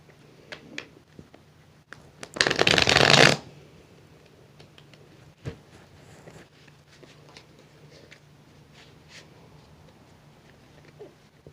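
Small tarot cards get one quick riffle shuffle lasting about a second, close and fairly loud, followed by faint handling taps and rustles in a quiet room.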